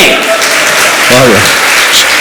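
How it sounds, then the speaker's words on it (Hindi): Vigorous applause from an audience at a religious question-and-answer gathering at Gunayatan, Shikharji, Jharkhand, a loud, steady roar of clapping with a brief voice cutting through midway. "पीयूष जी के लिए जोरदार ताली बजावें"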